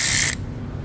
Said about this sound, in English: 7 Allen to remove the bolts.